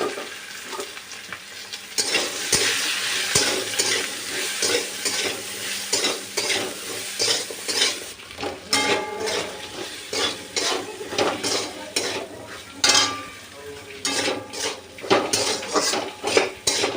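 Eggplant and potato pieces with salt and turmeric are stir-fried and stirred in a pan, a steady sizzle running throughout with frequent scraping and clinks of a metal spoon against the cookware, close and fairly loud.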